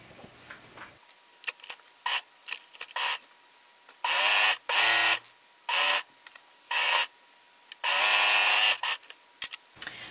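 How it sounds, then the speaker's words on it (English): A sewing machine sews a t-shirt side seam from the shirt bottom to the sleeve hem in several loud, close bursts of rapid stitching, with short clicks and quiet gaps between runs. "we're going to sew again from the bottom of the shirt to the hem of the sleeve"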